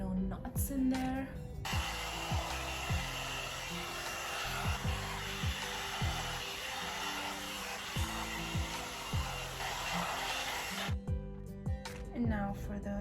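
A hair dryer blows steadily while hair is being blow-dried, a loud, close, continuous whoosh for about nine seconds that starts and stops abruptly, with someone speaking over it and before and after.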